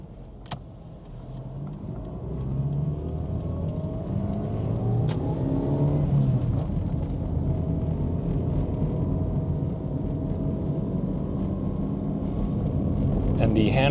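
A 1999 Toyota Sprinter 4WD with a 5-speed manual is driven around town, its engine and road noise forming a steady interior drone that rises as it accelerates, with a person talking over it throughout.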